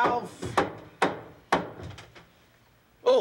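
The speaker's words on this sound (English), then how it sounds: "Hammering nails." Someone hammers nails into wood, giving four or five sharp, close knocks at uneven intervals, with brief talk at the start and end.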